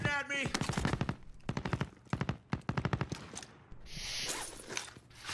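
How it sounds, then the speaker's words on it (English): Automatic gunfire in the video game Call of Duty Warzone cracks out in rapid bursts of varying length, loud and close, with a short voice at the start and a mechanical rattle near the end. "They're shooting at me."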